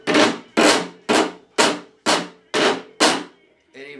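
Homemade electric washboard being played through an amplifier: seven loud, evenly spaced strummed scrapes about half a second apart, each a bright rasping burst that decays quickly, then a softer sustained tone at the end.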